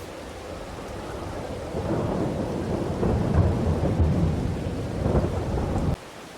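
Steady rain and rolling thunder from the farming game Farming Simulator 22, a dense hiss of falling rain under low thunder rumbles that build in the middle and cut off abruptly near the end.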